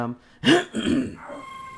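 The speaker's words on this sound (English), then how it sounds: "I had to clear my throat" A person clears their throat once, a short rough rasp with a second, weaker rumble right after, close and loud against a quiet background.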